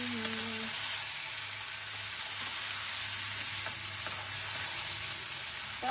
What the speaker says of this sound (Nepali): सोल्टिनी प्यारीले तरकारी पकाउँदै हुन्छ